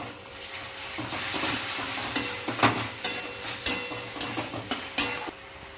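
Chow mein noodles stir-fried with chili sauce in a pan give a steady close sizzle, broken by repeated clattering scrapes of the spatula in a loose rhythm.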